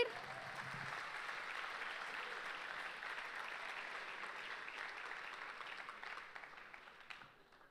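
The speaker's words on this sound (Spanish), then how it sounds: "si vas a aplaudir" A church congregation breaks into faint, distant applause during a sermon, a dense, even wash of clapping that slowly fades toward the end.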